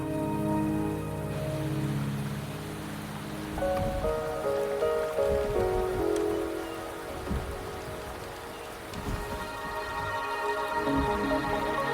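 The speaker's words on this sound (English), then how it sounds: "The rain is subsiding," Steady rain pattering on surfaces in a video game, continuous and fairly loud, mixed with a soft tonal musical backdrop.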